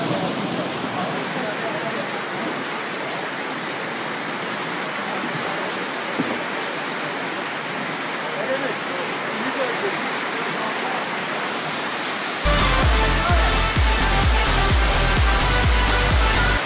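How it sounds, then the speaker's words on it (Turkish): Heavy rain pouring down outdoors on a cold day near Göygöl in Azerbaijan, a dense continuous wash of rushing water that fills the whole clip, with a louder shift near the end. "Bardaktan boşalırcasına şu an yağmur var dışarıda."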